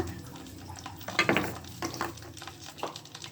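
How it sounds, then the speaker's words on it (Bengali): Garlic, chillies and whole spices like mustard seeds and fennel frying in mustard oil for a coriander leaf pickle, a soft, steady sizzle broken by a few stirring scrapes and clatters. "তো আমি রসুনগুলা আর এই মরিচগুলা ফোড়নগুলা ভালো করে একটু ভেজে নেব।"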